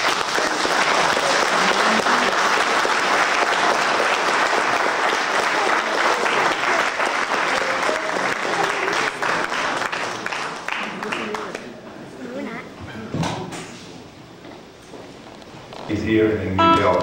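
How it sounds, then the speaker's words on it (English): Warm audience applause for the Dixie Hummingbirds, the gospel group, at a New York event, a dense sustained ovation of clapping that fades around twelve seconds, leaving scattered claps and crowd noise before a brief swell at the end. "now put the hands together and give a nice warm applause for the world famous"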